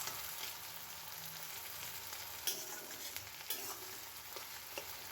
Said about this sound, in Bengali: ভালোভাবে পেঁয়াজটা ভাজা ভাজা করে নেব, একটু লাল লাল করে ভাজতে হবে।